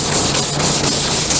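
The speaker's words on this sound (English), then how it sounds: "do a little bit more sanding" Close, steady scratchy rubbing of sandpaper on a wooden decorative storage box, a continuous coarse hiss with slight rhythmic strokes.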